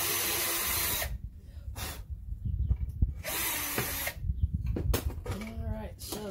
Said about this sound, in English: Alright, so then I drill the holes right through.